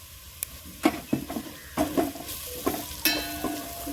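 Coriander paste and chili powder are sautéed in a pan, producing a light sizzle under several close, sharp scrapes and clinks of a spoon against metal, arriving in an irregular run of stirring strokes with no voice.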